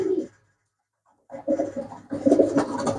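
A flock of pigeons, mixed males and females kept for sale, coo in close, throaty bursts. One brief call is followed by a pause of about a second, then denser overlapping cooing that grows louder toward the end.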